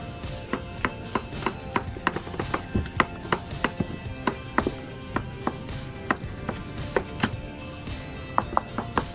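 A chef's knife chops through a giant Napoleon fish, crisp blade strikes landing on a board in a steady, fast rhythm with faint rubbing between cuts, close and clear with no talk.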